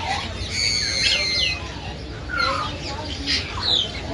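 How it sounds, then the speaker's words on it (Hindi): A breeding pair of macaws, about eight or nine years old, give repeated harsh, screeching calls at moderate distance, several bursts spread over a few seconds against steady background noise. "माशाल्लाह मकाओ का जोड़ा पड़ा हुआ है"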